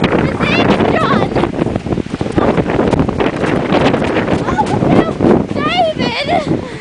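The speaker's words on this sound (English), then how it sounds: "That's the ocean." Ocean waves and wind fill the scene on a nature walk, a loud constant rush with heavy wind buffeting the microphone and people talking over it throughout.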